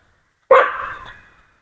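A dog gives a single sharp, fairly close bark at a stranger on a hillside, then the sound fades to quiet.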